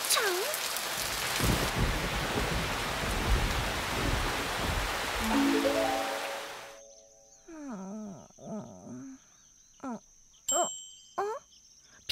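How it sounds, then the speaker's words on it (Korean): Rain falls steadily for the first six seconds as a dense, hissing patter, then stops abruptly. Animated animal yelps and calls follow, along with short chiming tones. "어, 비가 오잖아."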